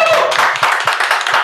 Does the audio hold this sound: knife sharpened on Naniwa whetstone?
no